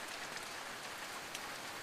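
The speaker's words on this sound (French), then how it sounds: "Le temps est toujours à la pluie" Steady rain falling outside the Cueva de los Tayos in Ecuador, a dense even hiss of drops with an occasional slightly louder patter, fairly faint and without voices.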